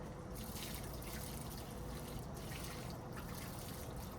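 Water poured from a plastic container onto a potted avocado tree being repotted, a steady soft trickling and splashing that runs continuously and close by with no talk.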